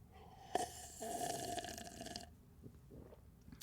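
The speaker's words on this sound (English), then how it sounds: "let's do our morning slurp" A long, wet slurp of a hot morning drink, close and fairly quiet, lasting a couple of seconds with a bubbly throaty edge, followed by softer swallowing sounds.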